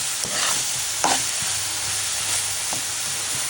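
Kalai greens fry in oil while being stirred, giving a steady, close sizzling hiss with a few scraping stir strokes and no voices.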